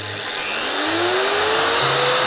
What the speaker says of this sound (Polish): Czy ty wierzysz, że ta piła przetnie deskę?